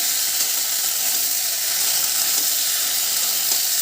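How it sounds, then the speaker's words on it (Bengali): Spice paste for a bhola fish curry with okra fries in a pan with a loud, continuous hiss and sizzle, heard close and alone for a few seconds. "তো এই মশলাটা ভালো করে একটু কষে নিই।"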